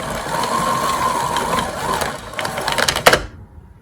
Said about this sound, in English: the last thing I'll do is wind up the cord